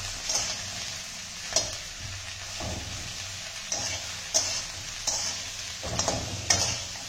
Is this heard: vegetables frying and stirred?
yes